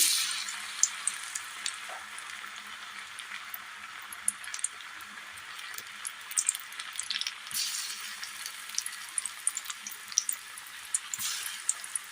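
Spoonfuls of batter for a Kerala snack hiss steadily in hot oil, with quick crackles and pops scattered unevenly over a long, moderately quiet stretch and no voices.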